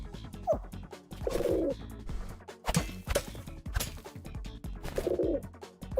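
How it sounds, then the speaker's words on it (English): Bird-like emote sounds from the Fall Guys video game, a crow-style call, repeat in short cooing bursts mixed with quick clicks and taps, close and fairly loud with no talk. "I wouldn't say it's chicken related because the sound is more of a crow."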